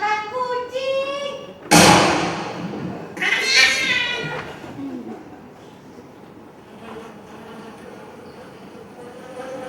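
A cat meows several times, close and clear, and a loud, sharp burst of noise follows. Faint background sounds then trail off.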